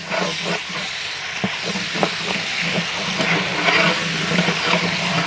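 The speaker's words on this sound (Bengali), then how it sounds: "পেঁয়াজ ভাজা হয়ে গেছে এখন মশলা দেওয়া হচ্ছে" Steady hissing sizzle of onions and spices frying in a hot pot for biryani, with scattered clicks and scrapes of stirring throughout; no talking.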